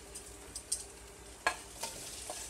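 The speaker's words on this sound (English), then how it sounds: "Okay, so I'm going to add my onions" Onions sauteing in an Instant Pot, a faint low sizzle with scattered stirring clicks and scrapes, quiet and close.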